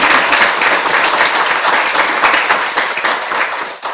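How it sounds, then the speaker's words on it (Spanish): Loud, dense applause from a large audience at an extraordinary council session fills the whole stretch, sustained and close, tapering slightly at the very end. "Otro aplauso fuerte"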